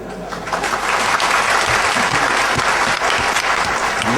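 A crowd claps loudly and continuously for several seconds, a dense, even patter of many hands heard up close with no talking.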